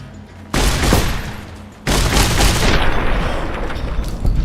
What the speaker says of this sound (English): this shotgun is nice